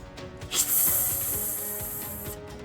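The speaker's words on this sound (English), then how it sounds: "The gushing water douses the flame and it vanishes in a cloud of smoke and steam" Water gushing from a pulled-down bathroom shower head onto a fireball in an interactive story game, a loud sustained hissing spray that swells after a brief start and holds steadily before cutting off.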